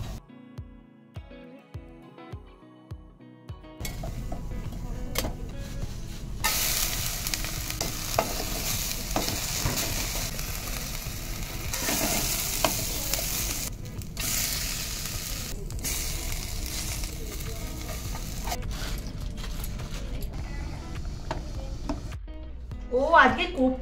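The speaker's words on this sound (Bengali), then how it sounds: "আমি কোপ্তাগুলো ভেজে নেব।" Papaya kofta balls drop into hot oil and fry with a loud, sustained sizzle and occasional stirring clatter after a few quiet tapping sounds at the start, close up in a home kitchen.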